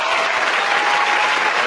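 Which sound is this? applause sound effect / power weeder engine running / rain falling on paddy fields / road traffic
applause sound effect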